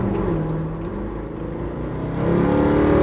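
A high-mileage Mercedes C63 AMG V8 rumbles as it rolls away after a cold start, heard from inside the cabin. The low, steady engine drone builds slightly as the revs rise toward the end.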